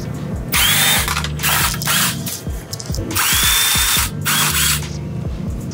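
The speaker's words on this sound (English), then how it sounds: "we're gonna use our trusty 5mm attachment to our driver" A power driver fitted with a 5mm Allen bit works on headlight fasteners, whirring in two bursts of about a second each with short rising whines, separated by pauses and small clicks.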